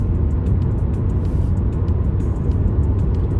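Inside a Ford Maverick Hybrid cruising on the highway, a constant low rumble of tire and road noise fills the cabin, steady and muffled, with faint wind hiss above it and no talking.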